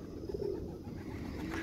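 Racing pigeons at a competition in Nevinnomyssk give a soft, low coo early on, faint over a steady outdoor background hum.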